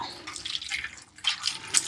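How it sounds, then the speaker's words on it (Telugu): Water poured into a cooking pot while making pepper rasam, a splashy, bubbling pour heard up close and alone in two bursts with a short pause between them. "ఇప్పుడే మనం నీళ్ళు సరిపడ్డట్టు పోసుకోవాలి"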